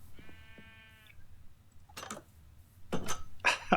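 A short sheep bleat in a video game rings out clearly at the start, followed by a few brief clicks and rustles.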